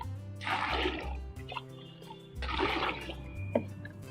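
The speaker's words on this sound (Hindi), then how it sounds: "किसी एक बाल्टी में करीब 10 लीटर पानी ले लीजिए" Water, about ten liters, is poured into a bucket to make liquid fertilizer, arriving in two splashing, gushing bursts with a quieter trickling pause between them, close and fairly loud.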